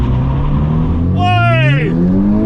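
Engines of a 2021 Hyundai Veloster N DCT and a 2021 Honda Civic Type R launching in a drag race, a steady loud drone with one engine's pitch rising sharply as it revs, heard from close by.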